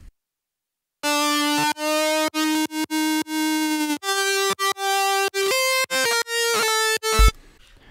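A dry, unprocessed lead synth from the Diva analog-emulation plugin plays a melody of sustained, harmonically rich notes separated by short gaps, loud and alone with no other sounds.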